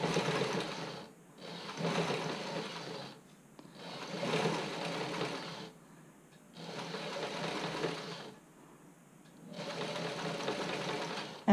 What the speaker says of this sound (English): And I'm sewing right on the edge.